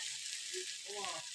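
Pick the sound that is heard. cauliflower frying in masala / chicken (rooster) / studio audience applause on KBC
cauliflower frying in masala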